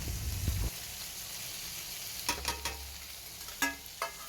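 Cubes of paneer with capsicum and onion are stirred and fried in a pan for chilli paneer, giving a quiet, steady sizzle broken by a few soft scraping stirs near the end.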